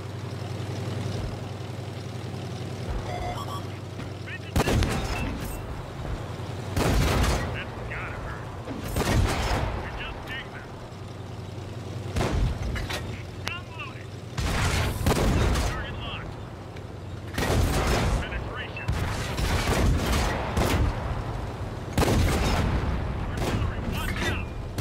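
Artillery fire in a tank video game, a series of heavy booming blasts and explosions spaced a few seconds apart over a constant low engine rumble, with no talk over it.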